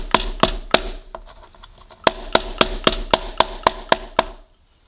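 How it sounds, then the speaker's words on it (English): A pestle pounds a lemongrass stalk with sharp, woody thuds, first a few spaced hits, then a quieter pause, then a steady run of about ten evenly timed strikes before the pounding stops. "So I'm going to use a pestle and just pound it to break up the stalk."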